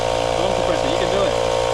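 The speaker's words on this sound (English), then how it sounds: "Arm compressor, you can do it." An air compressor at a mountain bike park runs as a loud, steady mechanical drone throughout, with a voice rising over it.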